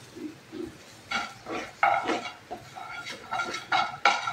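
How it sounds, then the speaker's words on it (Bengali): Food is stirred in a pan with close, uneven scrapes and clatters of the spoon against the metal, a little louder toward the end, with no voice. "এবার আমি এটাকে ভালোভাবে নেড়ে নেব।"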